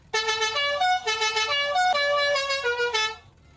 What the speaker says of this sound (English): that goes to the Cucaracho horn, because it was one of the first limited horns in the entire game